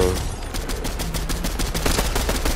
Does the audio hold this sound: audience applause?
no